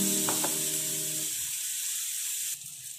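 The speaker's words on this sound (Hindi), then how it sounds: "पैन गरम हो गया है, छोटे छोटे उत्पम बनाएंगे।" Small uttapam rounds of batter sizzle on a hot pan with a steady, bright hiss. A short tonal hum sounds at the start, and the sizzle continues alone until it drops slightly near the end.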